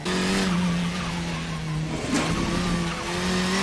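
KTM X-Bow race car lapping Knutstorp in the RaceRoom racing game, a steady droning engine note held close throughout with brief tire scrub midway, no talking.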